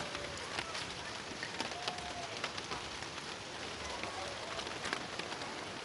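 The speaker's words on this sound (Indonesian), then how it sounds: "Aduh, hujan euy." Steady rain falls outdoors on a farm, a dense, even hiss of drops on surfaces that holds at a constant level throughout, with no talk.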